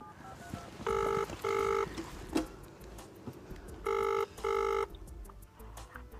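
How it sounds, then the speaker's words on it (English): A telephone ringback tone purrs in two double-ring bursts with a pause between, moderately loud over a faint noisy background, while brief clicks sound between the rings. "make that phone call"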